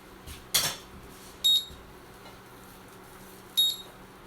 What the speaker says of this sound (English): You're killing me with the beeping.